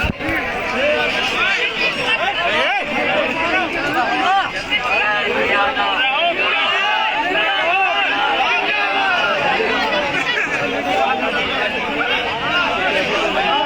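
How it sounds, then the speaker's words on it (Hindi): A dense crowd packs a political rally in support of a Samajwadi Party candidate, a constant loud babble of many overlapping voices with shouting close by, steady throughout. "भैया बहुत भीड़ है। दूर रहो।"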